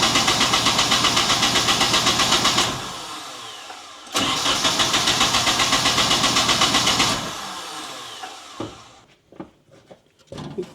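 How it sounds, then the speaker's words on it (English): A car engine with its fuel pump fuse pulled cranks in long rhythmic bursts, pausing between attempts, then sputters with short uneven catches as it fails to stay running; loud and close, no talk. "I'm gonna pretty much just try and start the car now just to get the fuel out of the lines."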